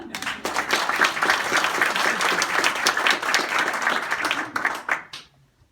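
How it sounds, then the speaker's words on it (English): An audience claps steadily for about five seconds to welcome a speaker, a dense, even burst of applause that fades out quickly at the end. "Please welcome Karen"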